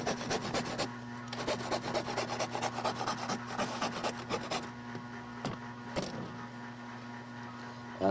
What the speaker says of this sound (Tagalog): Nating lagariin na rin itong pinakang ayoste.